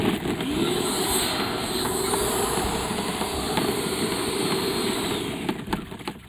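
A Freewing Avanti 80mm electric ducted fan jet, a WeMoTec-powered 6s model, comes in to land with a steady high whine and a whooshing airflow rush, holding a fairly constant level throughout with a whistling tone, with no voices.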